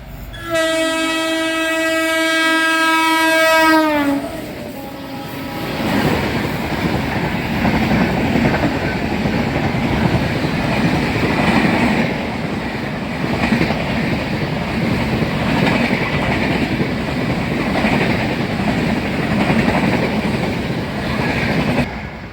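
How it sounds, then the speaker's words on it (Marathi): A passing train at Brahmapuri railway station on a morning: a loud horn blast sounds for about four seconds, then a steady rumble and clatter of cars rolling past continues to the end, with no talk. "मी दाखवते आहे ट्रेन तर हे ट्रेन बघा किती मस्त"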